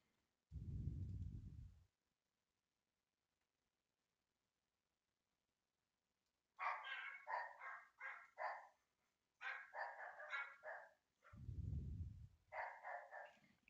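Dogs bark in a game setting, Warframe on PC, with several clusters of sharp barks at moderate loudness separated by quiet gaps and a low rumble at the start and near the end.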